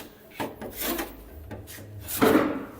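A bent plane blade used as a scraper rasps roughly across a piece of tin in a few separate gritty strokes, the last one loudest, close up with no talking.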